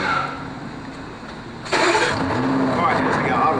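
Car engine cranking and catching via a remote-start phone app, a sudden jump from quiet room tone into a steady mid-pitched idle, with someone talking nearby.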